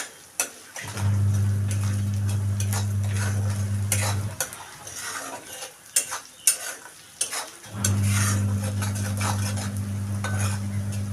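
Salt gets stirred into the spiced base for masale bhat in a pot, with a steady sizzle under repeated scraping and clinking of a spoon against the pot. The sizzle drops out midway while sharp clinks continue, then returns.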